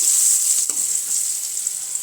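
Curry leaves with red and green chillies sizzling in hot oil, a bright, constant crackling hiss close by, with one brief clatter early on.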